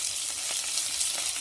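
Oil sizzles and crackles steadily in a hot pan, with small pops from mustard seeds, urad dal and onions frying close up.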